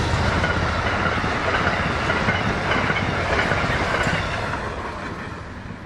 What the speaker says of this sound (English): Amtrak 43, the westbound Pennsylvanian, passes first.